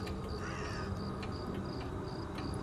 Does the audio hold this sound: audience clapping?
no